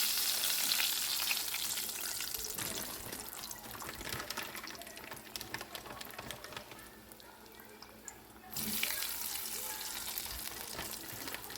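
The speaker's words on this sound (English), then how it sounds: "I'm about to put me some crunchy breaded okra into my frying pan." Breaded okra sizzles and crackles in hot oil in a frying pan, a steady frying hiss with occasional stirring clatter, quieter in the middle before the sizzle swells again.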